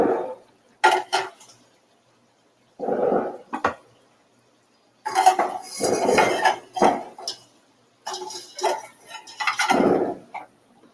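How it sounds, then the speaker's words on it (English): A pan and metal utensils clank and scrape in short bursts, loud and close, while bacon grease is drained off the pan for a Rotel bacon cabbage dish, with quiet gaps between the clatters. "I might drain some of that grease off."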